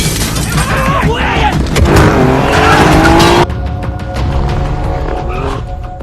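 Cars skid through a tense chase in a film, with loud screeching tires and roaring engines, rising sweeps of revving and a heavy squeal before a sudden cut to a quieter engine drone; a voice narrates over it.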